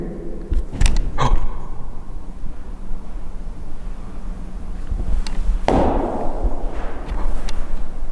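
A few sharp knocks or thumps sound inside a dark, supposedly haunted old prison, with a brief cluster early on and a louder single bang later, amid quiet room noise.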